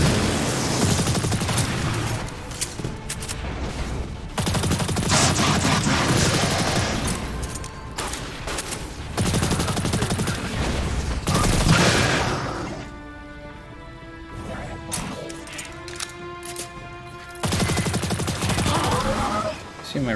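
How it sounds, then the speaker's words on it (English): Bursts of gunfire in Destiny 2 as a player shoots at a rock, with rapid automatic volleys separated by short gaps and a stretch of quieter game sound in between. "Great, shooting the rock."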